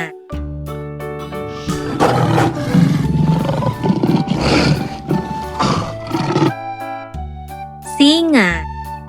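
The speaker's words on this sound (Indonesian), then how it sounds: "Singa," A lion's long, rumbling roar fills most of the span, loud and close, set against a bright children's music backing with a rising cartoon sound near the end.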